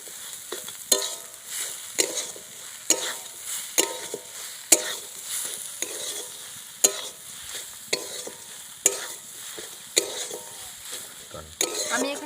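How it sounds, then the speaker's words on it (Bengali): Vegetable chop filling with sugar and breadcrumbs stirred in a pan, regular scraping strokes of the spoon against the metal roughly once a second over a low sizzle, close and fairly loud, with no voice. "এবার খুব ভালো করে আমি নেড়ে চেড়ে নেব।"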